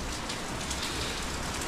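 Heavy rain falls in a steady, dense hiss, a constant even wash of drops drumming on surfaces with no break.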